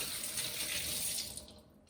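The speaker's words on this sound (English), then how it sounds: "Before we get to cooking, we're going to want to wash our hands." Water runs steadily from a tap into a sink while hands are washed with soap, a close, continuous hiss that thins and quiets toward the end.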